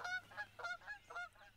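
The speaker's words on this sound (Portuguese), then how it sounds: "Gansos do Canadá!" A short run of nasal Canada goose honks, about six calls in quick uneven succession, fairly close and clear with no talking.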